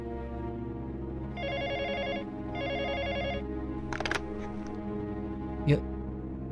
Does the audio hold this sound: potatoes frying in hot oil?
no